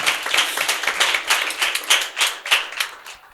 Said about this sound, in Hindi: क्राइस्ट होलीनेस चर्च की कलीसिया से आपके लिए जोरदार तालियां बजाते हुए आपको वेलकम कहते हैं